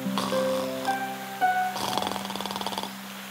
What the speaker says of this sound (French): Il ronflait si fort qu'il en faisait trembler les branches.